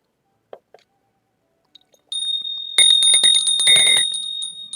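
A bell rings in bright, sustained strokes after a few faint clicks and taps, the ringing loud and close and thick with overtones for its final two seconds.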